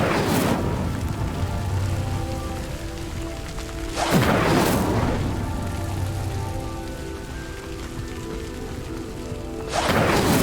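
The Incendio fire spell in the Hogwarts Legacy video game erupts in three loud broadband whooshing bursts, at the start, near the middle and at the end, over a steady roaring crackle with a tonal game soundtrack underneath.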